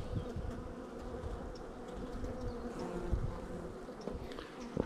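Honey bees drone in a dense, steady buzz close by as a beehive frame is held up and brushed clear, faint and continuous with no voices.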